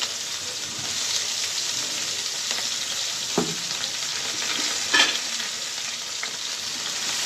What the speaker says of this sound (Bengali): কড়াইতে তেল গরম করে নিয়েছি। আর এখন দিয়ে দিব পেঁয়াজ, তারপরে দিব একটু মরিচ।